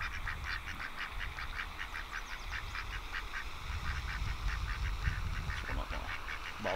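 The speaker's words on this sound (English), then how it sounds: "Got the duckies." Ducks at a park pond with picnic shelters, giving a steady run of honking, quacking calls at moderate distance over constant outdoor background noise, with no talking.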